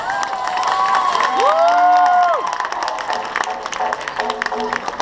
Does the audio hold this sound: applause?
yes